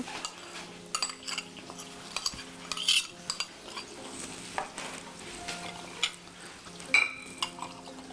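Fork scraping and clinking against a pan while food sizzles and fries on the stove, with irregular stirring knocks and occasional sharper clinks at moderate distance.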